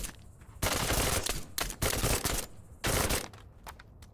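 Bursts of gunfire in a tactical shooter mission, with several loud broadband volleys of rapid shots separated by short gaps and quieter stretches between them.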